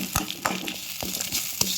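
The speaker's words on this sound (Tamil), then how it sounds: "ஒரு 2 கப்புக்கு துருவின தேங்காய் வச்சுக்கிறோம். நல்லா வதக்கிடுவோம்." Grated coconut sautéing in a pan for village-style mutton kulambu masala, stirred with repeated sharp scraping strokes over a steady close sizzle.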